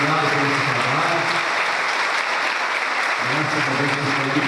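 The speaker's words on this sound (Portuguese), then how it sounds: "Uma salva de palmas da nossa equipe." A crowd applauding the team at a Brazilian children's church event, steady continuous clapping throughout with a voice speaking over it at the start and end.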